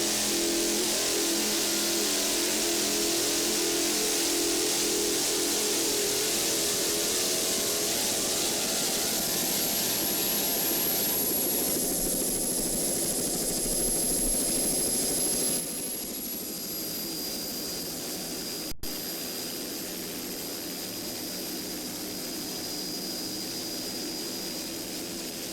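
Class 3 offshore racing powerboat engines roar loudly and steadily in a single continuous pass, the sound dropping slightly partway through as the boat moves off; no voices.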